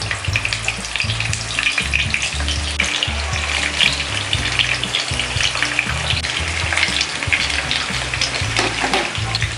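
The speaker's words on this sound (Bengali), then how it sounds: "তেল গরম হয়ে গেছে, এর মধ্যে আমি এক এক করে পটলগুলো ভেজে নেব।" Pieces of pointed gourd fry in hot oil over medium heat, a constant loud crackling sizzle with bubbling and occasional pops, continuous and close, with no voices.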